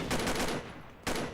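A rapid burst of game gunfire rattles off, pauses briefly, then another sharp volley cuts in, loud and close.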